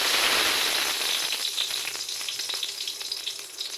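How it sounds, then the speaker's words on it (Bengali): Dried red chillies fry in a little hot oil for tempering, giving a loud, close sizzle with rapid crackling pops that eases slightly but continues throughout. "শুকনো লঙ্কা দিয়ে দেবো"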